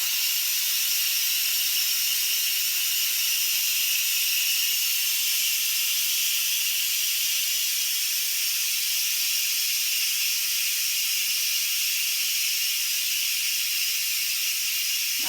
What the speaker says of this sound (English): I'm going to go ahead and release the pressure.